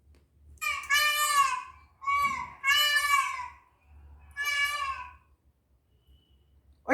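An old childhood recording of a young child crying, with four long wailing sobs separated by short breathy pauses. The cries are loud and close, with no other voices.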